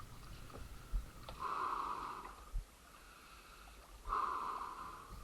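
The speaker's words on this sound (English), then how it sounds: "As you can hear, I'm actually breathing deeper as I go slowly down." A person takes slow, deep breaths while wading into cold open water. Two long, airy inhales or exhales sound close to the microphone, with soft bumps and water movement in between.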